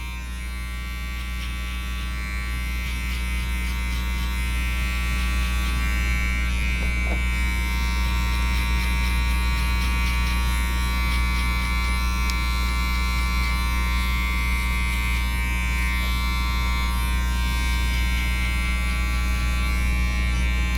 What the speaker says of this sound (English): make our second line with the clipper all the way open now